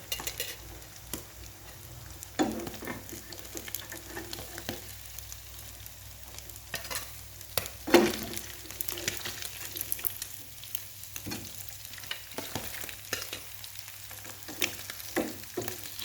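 Sun-dried salted bonito fish frying in oil in a pan, giving a steady soft sizzle with occasional scrapes and clinks of a utensil against the pan, close by and without talk.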